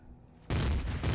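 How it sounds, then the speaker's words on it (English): A sudden loud burst of sci-fi pulse laser fire in the game Empyrion kicks in after a quiet moment, a dense roaring blast that holds steady before a brief dip and renewed surge. "This is the pulse laser."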